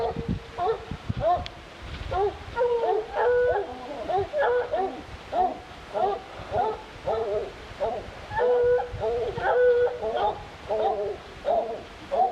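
Hunting hounds bay and howl at a bear in long, repeated drawn-out cries, overlapping one another at a moderate distance, with a voice calling now and then.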